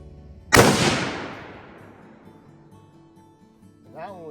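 .243 rifle fired while sighting in outdoors: one loud, close blast with a long decaying rumble, followed near the end by a brief voice.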